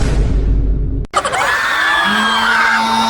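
Festival crowd yelling and screaming together, loud and close, with a sharp bang partway through, then a mix of cheering voices and whoops that carries on.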